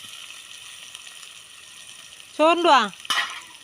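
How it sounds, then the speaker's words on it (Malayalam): Onions frying in hot coconut oil give a steady, soft sizzling hiss throughout, with a voice speaking briefly near the end and a short clatter just after. "വെളിച്ചെണ്ണ നല്ലോണം ചൂടാകുമ്പോൾ അതിൽ ഉള്ളി ഇടാം."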